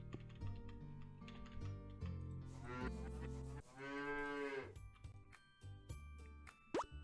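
Cattle moo in a farming video game, long drawn-out lowing calls rising above steady game music and clicky interface sounds, fairly loud and close with no talk over them.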